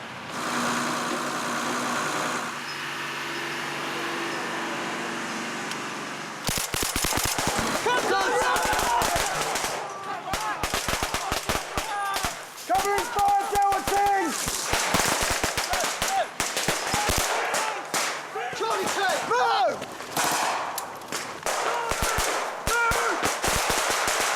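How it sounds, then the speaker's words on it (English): Soldiers lay down covering fire during infantry training in Afghanistan, with dense bursts of close, loud gunfire cracking in rapid irregular volleys after a quieter stretch of background noise, voices shouting in between. "Delta team holding fast, putting down covering fire, Charlie team into the assault if need be."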